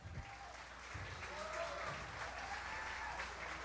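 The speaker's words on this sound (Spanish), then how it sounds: "Mucho aplauso, mucho público" A crowd applauds steadily at moderate volume, with cheering voices mixed into the clapping.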